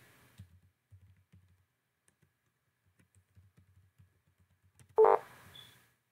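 Someone types admin account details on a computer keyboard, giving soft scattered keystrokes in quiet bursts, then one sharper, louder click near the end followed by a brief faint beep.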